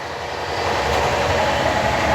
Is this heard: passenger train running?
yes